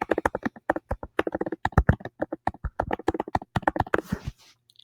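Fast, crisp keystrokes on a computer keyboard in short bursts with brief pauses as a flashcard definition is typed, close and clear, ending in a short rustle.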